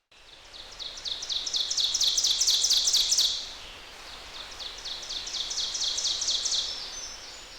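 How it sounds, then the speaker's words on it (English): A bird cheeps in two bursts of rapid, high-pitched repeated chirps, the first longer and louder, the second slightly softer. The bird sounds fairly near, with quiet background hiss. "It sounds like a cheeping bird"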